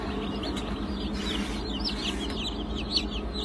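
Baby chicks of breeds such as lavender Orpingtons, Ayam Cemani, French black coppers and gold lace Cochin bantams peep repeatedly in quick high chirps inside a sportsman incubator at a hatchery, over a steady low fan hum.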